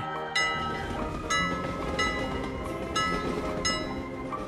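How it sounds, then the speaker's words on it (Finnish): A BRIO toy train rumbles along with rhythmic clattering, while bright metallic squeals and hisses recur every second or so as it slows into a station. "Juna saapuu asemalle."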